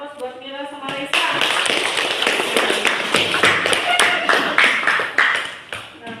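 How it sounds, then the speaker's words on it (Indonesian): Classroom of students applauding two classmates, Mila and Reza, at the end of a lesson: dense, steady group clapping that starts abruptly after a brief spoken moment and carries on loud and close for several seconds. "Berikan aplaus buat Mila sama Reza."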